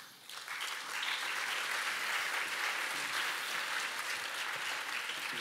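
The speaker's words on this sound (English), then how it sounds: "please give a warm round of applause to Paul Leseman" An audience at an early childhood education lecture starts clapping for the speaker, swelling quickly after a soft start into an even, sustained round of applause at moderate distance.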